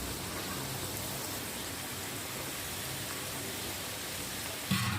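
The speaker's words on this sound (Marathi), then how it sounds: "आता ही पापडी आपल्याला तळून घ्यायची आहे." Papdi frying in hot oil in a kadhai, a steady fine sizzling hiss with no pauses, quiet and close, ending with a brief louder clatter.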